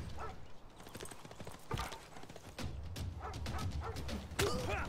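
Horse archer units in Civilization VI trot with a steady clip-clop of hooves, a busy rhythmic patter mixed with game sounds at moderate loudness, with no speech over it.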